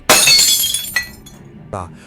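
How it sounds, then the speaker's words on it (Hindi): Window glass smashed with a heavy flower pot in a burning haunted house, a loud sharp shatter with bright ringing shards that fades, followed by two smaller tinkling clinks. "रोहन ने एक भारी गमला उठाकर खिड़की का कांच तोड़ा"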